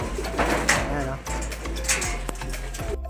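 Pigeons coo repeatedly in low, throaty bursts close by in a pigeon loft, mixed with rustling and people talking.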